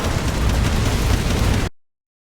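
A machine gun firing in the retro-style shooter game Incision: a loud, dense, continuous burst of rapid fire lasting under two seconds before cutting off abruptly into silence.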